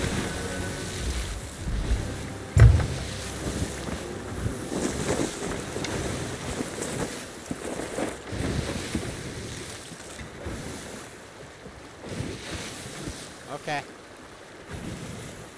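Ocean waves and wind around a sailing ship in the Sea of Thieves video game, a continuous washing surge with creaks and a thump near the start, with people talking over it at times.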